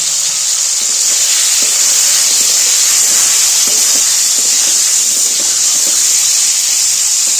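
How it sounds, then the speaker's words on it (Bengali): Tomatoes half-frying in a pan for Saraswati puja khichdi, giving off a loud, steady sizzle and hiss that runs without a break, close up and with no talking. "আর এখানে যে টমেটোগুলো আছে, টমেটোগুলো আধ ভাজা করে নেব।"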